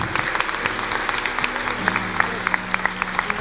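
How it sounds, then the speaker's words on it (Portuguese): A church congregation claps during a sermon, with steady dense applause and sharper individual claps standing out over sustained organ-like tones. "Aplauda, igreja."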